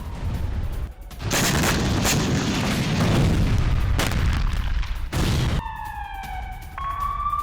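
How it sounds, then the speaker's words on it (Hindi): An airstrike on a house in the Gaza Strip brings loud booming blasts and rumbling debris over several seconds, followed by a wailing siren. "गाजा पर बमबारी का खौफनाक वीडियो अब आपके सामने, जहां गाजा पट्टी में घर में हुई भीषण हवाई हमले की ये तस्वीर देखिए।"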